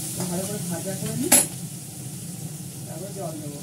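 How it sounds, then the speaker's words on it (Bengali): Ginger and salt fry in a pan with onion and potato while a utensil stirs and scrapes, giving close sizzling broken by a sharp metallic clink, with a voice speaking briefly over it. "ভালো করে ভাজা করে নিই"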